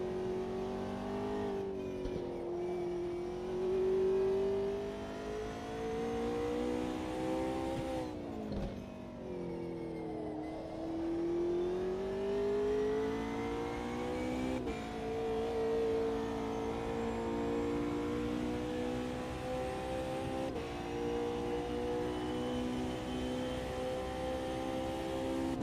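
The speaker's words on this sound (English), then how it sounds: "Faster car approaching." A race car in Automobilista 2 at Spa holds a sustained engine drone, pitch climbing and dropping through gear changes, with another faster car closing in over the steady roar.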